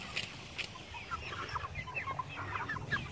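Meat chickens let out of a mobile coop to free range outdoors cluck and chirp continuously in a flock, soft and moderately close, with scattered overlapping calls and no talking.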